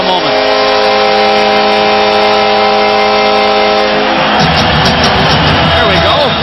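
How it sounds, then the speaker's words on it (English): The crowd at Nassau Veterans Memorial Coliseum during a 2002 Islanders–Maple Leafs playoff hockey game: a loud sustained droning tone gives way to a dense, roaring wave of cheering that swells over the last couple of seconds. "Now just listen to this crowd for a moment."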